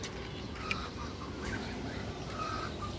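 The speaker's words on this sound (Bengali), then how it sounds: "এই হলো আমার হাঁস মুরগিগুলো" Ducks and chickens on a rooftop pen, including Chinese ducks, give soft scattered clucks and calls while feeding, moderately close and fairly quiet with no talk.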